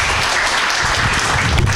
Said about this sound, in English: Everyone, first give Tom a round of applause